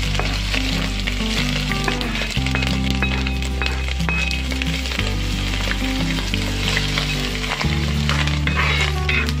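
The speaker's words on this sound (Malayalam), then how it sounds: "ഇത് ജസ്റ്റ് ഒന്ന് ഫ്രൈ ചെയ്തെടുക്കാം." Crushed ginger and garlic fry with dried chillies and curry leaves for a Kerala fish curry, a steady loud sizzle with occasional stirring clinks over low background music.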